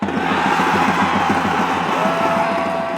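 A soccer crowd cheering and chanting in full voice after a penalty goal, a dense, loud roar of many voices sustained throughout.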